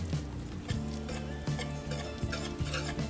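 A utensil steadily stirs macaroni with melting white cheddar in a pot, giving rhythmic sticky scrapes and soft knocks against the pan at a regular pace, close and moderately quiet.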